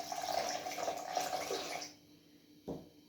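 Water pours into a bowl of liquid sponge cake ingredients with sugar, a short splashing trickle that stops after about two seconds, followed by a single soft knock.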